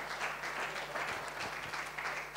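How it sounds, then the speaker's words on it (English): A church worship gathering claps a round of applause for the musicians, steady dense clapping at moderate distance, fairly faint and continuous. "So give them a round of applause"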